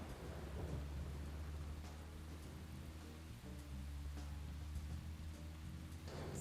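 Rain and thunder from the Deadly Premonition video game: a steady hiss of falling rain under low, continuous rumbling, with occasional sharper crackles, all at an even level throughout.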